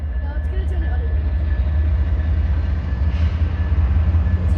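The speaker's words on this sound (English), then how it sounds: "It's starting to move." A BNSF train at a railroad crossing begins to move, its locomotives giving a deep, steady rumble that stays close and loud throughout.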